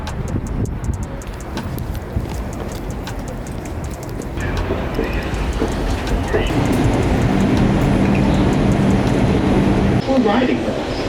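A New York subway train rides along with a loud, steady rumble and rattling wheel noise that swells partway through, while a person talks over it.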